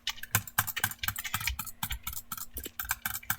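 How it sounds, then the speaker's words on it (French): Rapid computer mouse clicking during Bloxd.io PvP play, alternating butterfly clicking and normal clicking: dense, fast bursts of sharp close-up clicks with an irregular rhythm and no voice. "Là je butterfly, là je clique normal."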